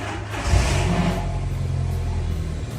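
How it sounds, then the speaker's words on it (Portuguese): A VW Gol's engine revs up sharply, then settles into a loud, steady, low rumbling idle close by, with no one talking. "quer escutar o barulho do motor."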